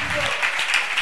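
Church congregation clapping during a French-language worship service, dense loud applause throughout with singing voices mixed in.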